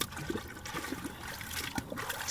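Water splashes and trickles over a muddy AR-15 rifle during rinsing, an irregular, fairly quiet flow with a few sharper splashes and no talking.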